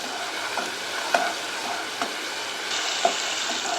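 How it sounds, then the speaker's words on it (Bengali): Bengali masala with turmeric and salt stirred in a pan for a prawn and elephant-foot yam dalna, a steady sizzle broken by a few sharp scrapes of the spoon, close and fairly loud, with no talk. "এবার সব কিছুকে ভালোভাবে মিশিয়ে নিচ্ছি।"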